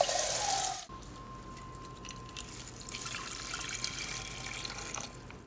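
Water is poured into a pot of chopped dried cranberries while cooking, opening with a brief loud gush that cuts off, followed by a quieter trickling and splashing that continues and then stops.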